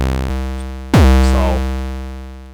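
A square-wave 808 bass note from the SubLab synth plays as a sustained, buzzy tone with a strong, sharp new attack partway through that then slowly decays, heard alone with no talking.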